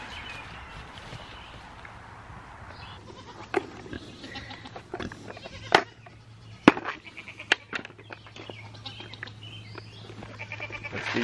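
Pigs on a farm at morning feeding time, with grain being handed out, making scattered grunts and snorts among sharp knocks and clatters, fairly close and steady over a low background hum.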